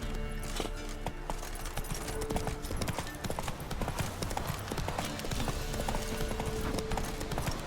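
Hooves of the horse Roach gallop in The Witcher 3 video game, a rapid rhythmic clip-clop running steadily under a busy mix of game ambience and music, moderately loud throughout.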